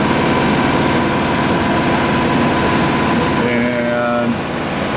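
A Bliss C2-100 100-ton double-crank gap frame press runs continuously with a loud, steady mechanical drone and hum; a voice briefly speaks over it.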